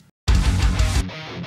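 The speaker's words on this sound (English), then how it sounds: "So the guitar left is the Valovirta impulse response, and it sounds like this." Electric guitar played through a Valovirta impulse response, one loud, full chord struck after a brief silence and ringing for about a second before cutting back, with no talk.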